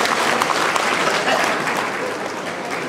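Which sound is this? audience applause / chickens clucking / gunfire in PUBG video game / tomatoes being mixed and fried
audience applause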